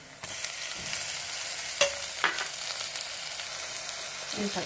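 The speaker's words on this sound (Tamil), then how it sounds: "இது சேர்த்து நல்லா கிண்டி அடுத்த சிம்மில் வச்சு தக்காளியை நல்லா வதக்கிக்கலாம்" Steady sizzling of chopped tomatoes frying in a pan, with a few sharp scrapes and taps from stirring, close and fairly loud throughout.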